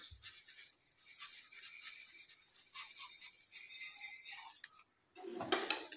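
Grated coconut and sugar stirred steadily in a pan over medium heat, a soft continuous scraping and rustling with a brief louder scrape near the end, close by and without talk.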